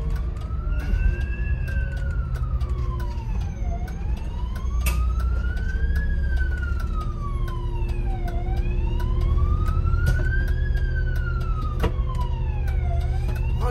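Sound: ambulance siren passing through an intersection

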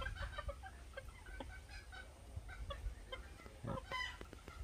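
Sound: chickens clucking

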